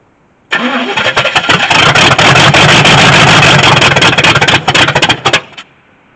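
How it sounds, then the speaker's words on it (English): A long-neglected car engine, left sitting for over ten years, catches and runs loud and rough with the timing off, sputtering and stumbling unevenly for about five seconds before cutting out, with no talk. "it's trying to kind of spit and sputter, so the timing's off a little bit, but it's running"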